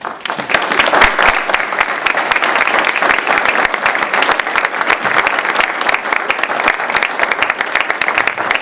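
Sustained applause from a large crowd at a citizen fire academy graduation in Evanston, dense clapping that holds steady throughout at a loud, close level.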